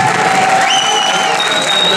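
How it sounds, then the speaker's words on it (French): A crowd at a film premiere of Les Tuche claps and cheers loudly and continuously, with shouts and high whistling rising over the sustained applause. "On applaudit bien fort, bien sûr."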